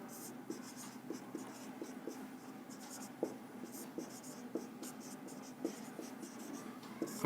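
Pen scratching on paper during a Class 8 maths lesson, a series of short rhythmic strokes with soft taps, close and fairly quiet.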